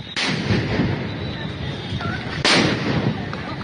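Sound grenades go off one after another during street unrest at Dhanmondi 32 in Dhaka at night, two loud sharp blasts with rumbling echoes between them.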